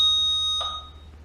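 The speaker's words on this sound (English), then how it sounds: "At the end of this set, it should have a really loud beep to announce that that set is over." A Swimnerd swim pace clock gives a loud electronic beep marking the end of a programmed set, with a long sustained tone, then a second shorter beep.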